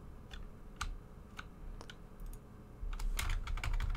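Keyboard keys tapped while working in the Barotrauma submarine editor, a series of separate soft clicks at first, then a denser burst of quick presses in the last second, close and fairly quiet with no talking.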